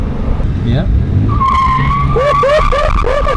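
An off-road minivan revving and sliding on dirt: loud engine roar with a rising-and-falling whine and repeated tire squeals near the end, close up, with a brief voice over it.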